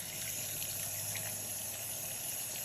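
Steady running water from a tap rinses oatmeal, milk and honey soap lather off skin, a continuous close hiss with no pauses.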